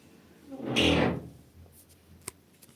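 A heavy cellar door swings shut with a single muffled thud, followed by faint scattered clicks in a quiet room.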